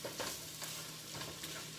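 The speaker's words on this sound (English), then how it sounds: "Adding the stir-frying that kielbasa" Kielbasa sizzles while being stir-fried in a pan for chili, a steady crackling hiss close by with faint stirring scrapes and no talk.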